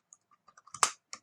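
A computer keyboard typed on at close range, a quick run of light, irregular key clicks ending in one louder, fuller keystroke and a couple of trailing taps.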